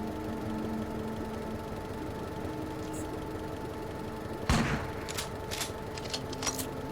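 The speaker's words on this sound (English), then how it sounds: "I do like the sound effects for shotguns." Shotgun blast in the game UnderRail, one loud broadband burst near the middle followed by a few quieter cracks and clatter over a steady low game hum.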